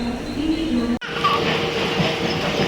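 A local EMU train running from Kalyan toward Neral rumbles along with a steady roar and rattling wheels, a brief dropout near the start, then continuous loud running noise.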